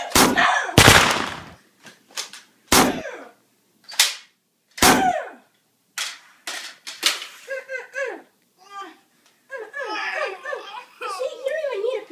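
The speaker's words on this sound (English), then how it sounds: "I'm gonna shoot you right now." Pistol gunfire in a video game: a series of sharp, loud, separate shots spread across the clip, followed by excited voices and laughter.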